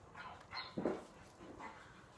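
A dog, upset by firecrackers going off outside, gives a few short whimpering yips and barks at moderate distance, one louder burst in the middle, with no talk over it.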